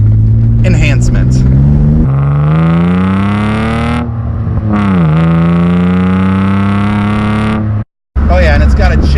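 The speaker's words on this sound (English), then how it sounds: "It's got a different exhaust on it. So you can hear a little bit of the enhancement." A modified BMW E36 328i with an aftermarket exhaust, chip and cold air induction revs hard and close, its pitch climbing and dropping across several pulls, with short cut-outs between revs.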